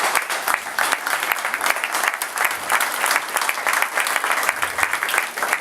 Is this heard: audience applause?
yes